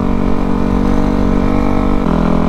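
Kawasaki KX250F dirt bike engine revving hard and steadily, loud and close, a continuous high-pitched buzz that holds throughout without any talk.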